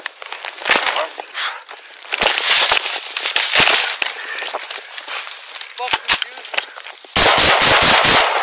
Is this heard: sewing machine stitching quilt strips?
no